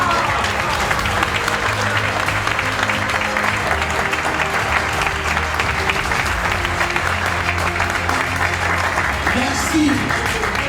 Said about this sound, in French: Je souhaiterais que vous applaudissiez à votre frère.